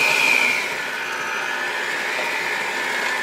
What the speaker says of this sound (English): And we'll grab our mixer for the last time.